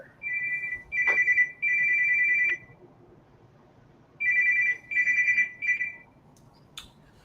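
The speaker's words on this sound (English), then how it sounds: "mute your phone before you do an interview" A mobile phone ringtone goes off during an interview, repeating electronic tonal bursts in two groups separated by a pause, fairly loud against a quiet background with no speech.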